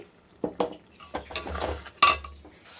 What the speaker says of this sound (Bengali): একটু জল দিয়ে একটু কষিয়ে নেব